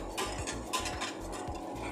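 A whisk scrapes and taps rhythmically against a pot as thickening mahalabiya milk pudding is stirred, producing repeated soft metallic strokes about twice a second, close and clear.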